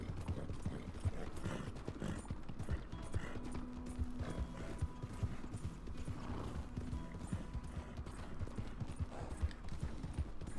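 Galloping horse hooves in Red Dead Redemption 2, a steady rapid clopping rhythm that runs throughout at moderate volume with faint creaking tack and no talking.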